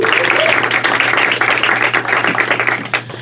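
A comedy show audience applauding as the next comic is introduced, a dense steady wash of clapping that fills the room and holds throughout.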